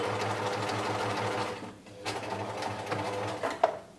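A sewing machine stitches a boxer shorts leg hem with a brief reverse, whirring steadily and close up, then pausing before restarting in short bursts.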